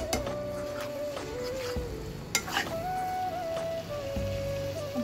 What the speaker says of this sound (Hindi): उसको इस तरीके से घोटते रहेंगे और सब्जी पकाते भी रहेंगे।